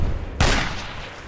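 A single loud gunshot crack with a short rolling echo from combat in the military shooter game Project Reality, heard close over a low background rumble.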